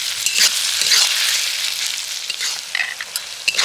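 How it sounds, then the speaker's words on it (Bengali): Chopped onion, ginger and garlic fry in a pan, a bright, steady, close sizzle with a few soft stirring scrapes and spits near the end. "আর একটু ভালো করে আমি পেঁয়াজের সাথে ভেজে নিচ্ছি আদা রসুনটাকে।"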